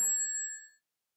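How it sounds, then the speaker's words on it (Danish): A telephone gives one bright metallic ring that rings out and fades to silence within a second, clear and close with no voices. "Hey, telefon. Ikke så utålmodig. Jeg skal nok tage dig."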